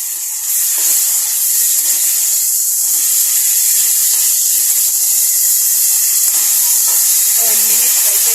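Onions frying with ginger garlic paste, a loud steady sizzling hiss close by throughout.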